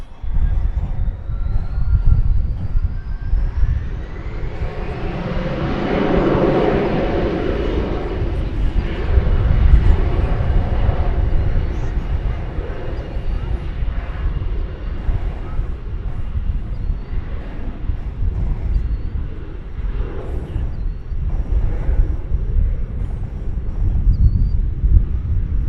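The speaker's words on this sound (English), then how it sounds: "American Airlines Flight 1166. From Oklahoma City, an Airbus A319." An American Airlines Airbus A319 on flight 1166 from Oklahoma City lands at DFW Airport, a loud jet roar that swells with a rising whine, then settles into a sustained rumble with rushing wind as it passes close by.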